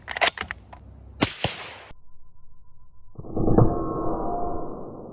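A .338 Lapua sniper rifle fires at a steel AR plate, giving two sharp, loud cracks close together with ringing tails, followed by a steady low hum and rising rustling noise.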